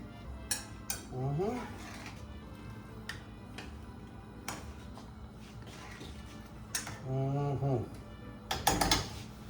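Clattering pan and utensil sounds as steak ranchero is mixed with laurel leaves in a pan, with intermittent knocks under a speaking voice and sizzling background.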